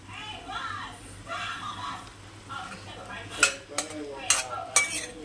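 Eggplant and prawn curry stirred in a pan, village style: a soft sizzle under a voice, then several sharp metallic clinks of the spoon against the pan.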